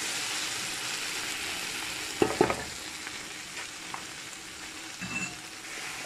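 Browned beef sizzles in a pan with a little oil and vinegar for an okra and beef sauce, a steady soft frying hiss broken by a few brief clinks and stirring scrapes.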